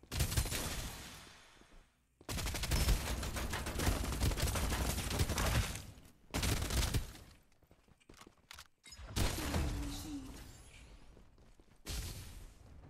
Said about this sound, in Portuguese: os caras estão trocando tiro aqui fora.